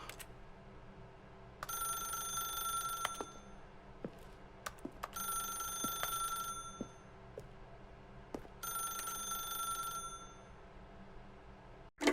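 A telephone rings in an apartment in The Stanley Parable: Ultra Deluxe, three faint electronic ring bursts in steady alternation with quiet gaps, over a low room hum with occasional soft clicks.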